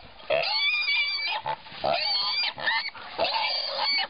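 A pig squeals loudly in repeated shrill bursts while a trained dog catches it, close and intense, with brief pauses between cries.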